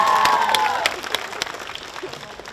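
Applause for parents at a school graduation ceremony in a college courtyard, a crowd clapping loudly at first and then thinning out into scattered claps, with a ringing tone early on.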